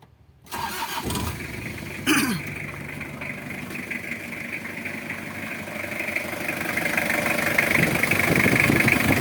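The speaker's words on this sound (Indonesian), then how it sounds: "Coba kita nyalakan mesin tanpa ini dulu ya." A car engine cranks briefly, catches, and settles into a steady idle that slowly grows louder. The engine is being started to check the air conditioning, with the AC amplifier disconnected and the magnetic clutch not turning.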